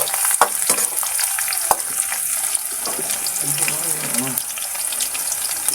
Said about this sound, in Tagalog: Nung ayos na nga po yung pagkakagisa ko doon sa bawang